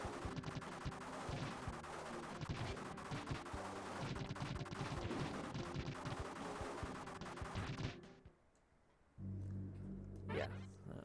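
Dense, sustained rapid gunfire from a SNES shooting level in The Death and Return of Superman (1994), blasting apart a rocket's components, loud and continuous for about eight seconds before a brief drop and a steadier tonal burst.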